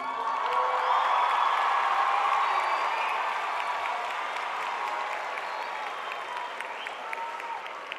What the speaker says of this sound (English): I want you guys to stand and give them a round of applause